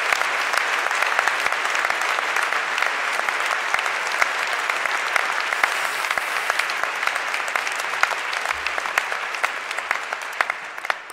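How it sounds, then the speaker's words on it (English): Warm, sustained applause from a large convocation audience at a University of Ottawa graduation, many hands clapping steadily and evenly throughout. "So please join me in the first of several warm rounds of applause for their great efforts."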